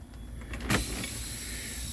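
A truck's yellow air brake valve button is pushed in, a short sharp pneumatic click and hiss about midway, followed by a steady airy rush.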